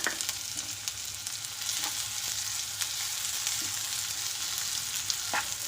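Chopped onion frying in a pan, a close, continuous crackling sizzle with occasional spoon knocks against the pan, no one speaking.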